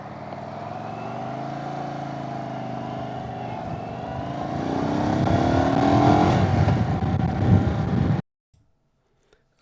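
2022 Indian Chief Bobber Dark Horse motorcycle on a ride, its engine droning steadily and then rising as it accelerates with wind buffeting, loud and close, before cutting out abruptly to near silence.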